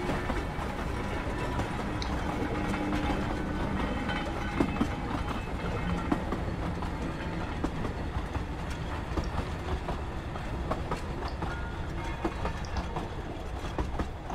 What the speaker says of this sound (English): Wow, this is a loud train.